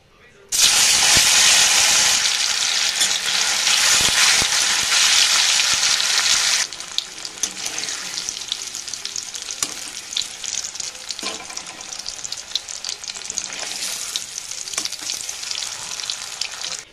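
Paneer pieces coated in salt and turmeric fry in hot oil, a loud, bright close-up sizzle for several seconds that then settles into a quieter, crackling fry.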